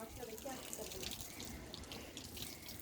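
Tap water runs steadily into a basin while a mud-caked black-and-white pet is bathed, a continuous close splashing wash with faint voices talking now and then.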